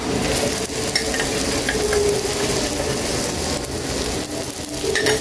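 Eggplant frying with onion in a pan, a constant crackling sizzle with scraping stirring strokes against the pan, no voices.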